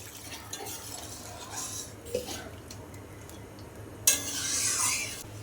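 Water poured into a pot of rohu fish curry, starting with an abrupt splash near the end and continuing as a steady rushing pour, following soft stirring clinks and a light sizzle.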